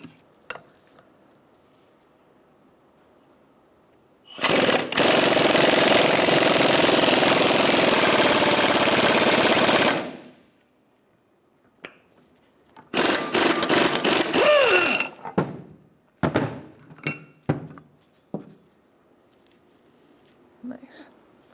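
Power tool turning a threaded rod press to seat an upper ball joint on a 1992-1996 Ford F-150: a long loud continuous whirring run, then shorter bursts and clicks, close, with someone speaking.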